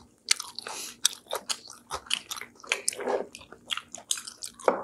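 Crispy fried food coated in sauce, such as sweet-and-sour pork, crunches loudly and close up in a quick run of bites and chews, with no talking.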